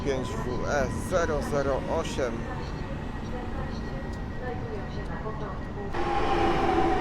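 A train rumbles past Warszawa Służewiec railway station in a steady low roar, with someone speaking Polish over it and a brighter whine rising near the end.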